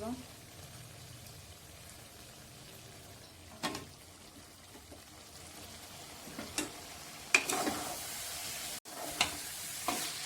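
Chopped tomatoes with salt cook in a pan, giving a soft steady sizzle with occasional stirring scrapes and louder bursts of frying toward the end.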